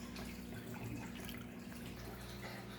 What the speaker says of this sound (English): 100 millimeters of water and pour it into a paper or plastic cup